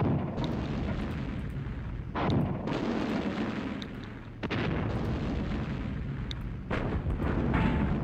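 Artillery in the Sudden Strike strategy video game fires blind, producing repeated heavy booms and explosion bursts over a dense rumbling battle background. The blasts are loud, close and spaced irregularly, with no talk.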